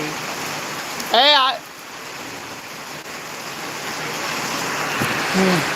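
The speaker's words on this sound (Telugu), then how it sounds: "చూస్తున్నారుగా వర్షం పడేది" Steady rain falling outdoors, a broad continuous wash heard under a brief high-pitched voice or whistle-like call near the start and faint voices later.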